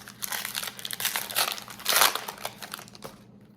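Foil trading card pack wrappers crinkle and tear continuously as 2024 Historic Autographs 1800s packs are opened quickly, with a louder crunch midway and close, busy rustling throughout.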